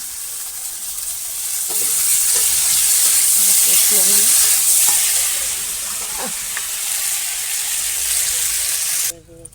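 Steady sizzling and crackling of spices frying in a hot pan for a silver carp fish curry, with occasional stirring clinks, continuous throughout before cutting off abruptly at the end.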